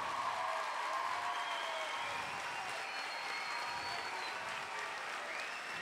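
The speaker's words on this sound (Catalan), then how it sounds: "fort aplaudiment!" An audience at an evening festival gathering at the Sanctuary of Lluc gives warm, sustained applause for Xavi Torres, with dense clapping and a few whistles and cheers over it.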